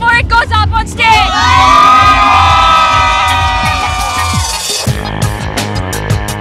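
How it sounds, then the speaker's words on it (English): A college business-school festival crowd cheers and whoops for its team before the team goes on stage, a loud sustained roar with shouting voices and music. "One last cheer for your team before it goes up on stage"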